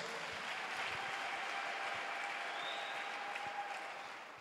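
Worshippers in a church clap together to acclaim the Lord after testimonies, a sustained, full round of applause that begins to fade slightly at the end.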